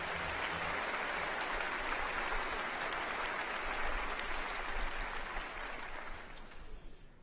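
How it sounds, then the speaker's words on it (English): Continuous audience applause at a university Encaenia ceremony, a broad even wash of many hands that holds steady and then tapers off toward the end. "Let's have a round of applause to thank them for the work they've done."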